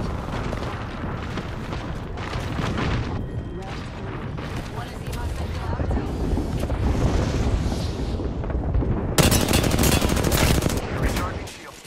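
Gunfire in the battle royale game Apex Legends, loud dense bursts of automatic weapon shots and booms running continuously over a steady noisy mix, with voices heard under the shooting.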